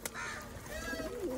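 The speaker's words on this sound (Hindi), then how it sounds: "अपने बड़े कबूतर हैं माशाल्लाह।" Soft pigeon calls close by, a low cooing with a few brief chirpy notes, steady background hiss and no talking.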